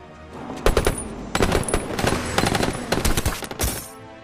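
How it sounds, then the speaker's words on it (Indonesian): Rapid bursts of automatic gunfire and single shots ring out in a movie shootout as a man in a stalled car is fired on by a group of attackers, loud, dense and uneven, with no talk. "Alhasil, dia pun diberondong peluru oleh Charlie dan anak buahnya."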